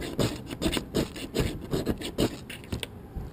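A striker scrapes along a ferro rod in a series of short, harsh rasping strokes, about seven evenly spaced scrapes, close and moderately loud with brief pauses between.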